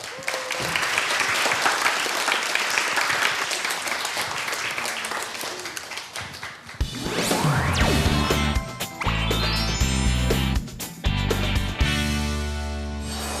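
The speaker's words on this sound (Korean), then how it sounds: "큰 박수로 모시겠습니다" An audience at a Korean talk concert on one-person media claps to welcome the next speaker, dense applause for several seconds before loud music with heavy, booming hits takes over.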